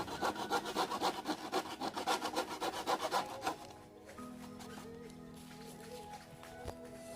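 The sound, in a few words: cutting a motorcycle grab handle part with a blade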